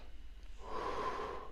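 A slow, controlled in-breath during a meditation exercise, soft and close, rising to a steady airy rush that lasts about a second.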